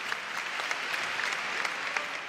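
Steady audience applause fills a motivational talk on stage, a dense wash of clapping at moderate level from start to finish with no voices over it.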